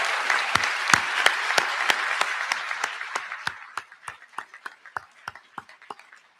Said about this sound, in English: So how about a round of applause for the amazing class of